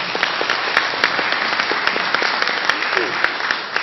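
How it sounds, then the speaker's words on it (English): An audience applauds a conference panel after their opening statements, a dense, steady wash of clapping with sharp individual claps standing out, close and sustained throughout. "let's give them a big round of applause"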